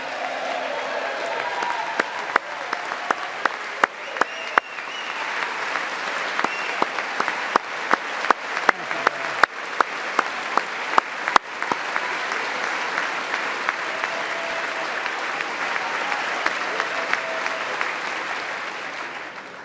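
Sustained applause fills a joint session of the U.S. Congress, a large audience clapping steadily for about twenty seconds with scattered louder claps and a few cheers over the broad wash.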